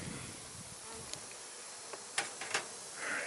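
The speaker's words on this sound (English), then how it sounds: "Still not a lot of bees flying around me." A steady insect buzz hangs over the whole stretch, like many bees humming near a hive, with a few faint ticks and knocks.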